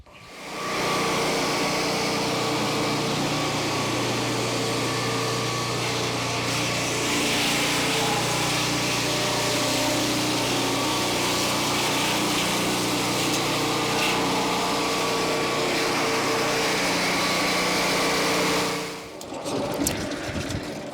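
A Turbosawmill blade reverse-cuts along a small log back toward the operator, a steady high-pitched whining buzz of saw and engine that holds evenly for most of the stretch and then drops away.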